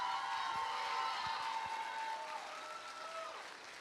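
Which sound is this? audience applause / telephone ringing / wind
audience applause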